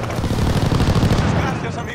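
Strafing gunfire in Call of Duty: Vanguard, a dense continuous rattle of rapid shots and rumbling low booms, loud and close, over a battlefield din.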